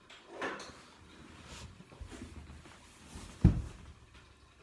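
The metal door of an Angara 12 Aqua stove-fireplace is opened by its handle, giving soft clicks and a sharp latch clunk near the end, quiet and close.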